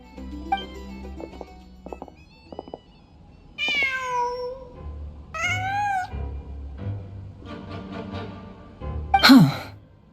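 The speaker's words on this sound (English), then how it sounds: "Huh. Just a cat." Cat in the Genshin Impact video game gives several distinct meows, some rising and drawn out, ending in a louder yowl, over soft ambient game music and faint background sounds.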